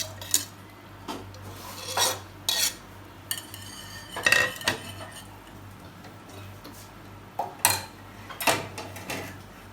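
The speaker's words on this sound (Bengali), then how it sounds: "এবার আমি এতে সবগুলো উপকরণ একসাথে মিক্স করে নিব" Beaten eggs mixed with other pudding ingredients in a pan, a spoon or whisk tapping and clinking against the sides in a steady irregular rhythm of sharp knocks, close up with no talk.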